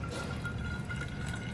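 Water is poured into a bottle onto green mica pigment powder, a steady close trickling and filling sound with no talking.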